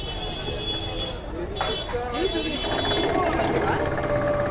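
A sugarcane juice machine clatters and grinds as it crushes a stalk of sugarcane. The mechanical rattle gets louder partway through, and people talk over it.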